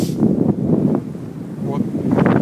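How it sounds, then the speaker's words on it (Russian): Strong wind buffets the microphone on Brighton Beach in Brooklyn, New York, a loud rumbling roar that gusts and eases unevenly, with brief voices faintly mixed in. "Ветер очень сильный."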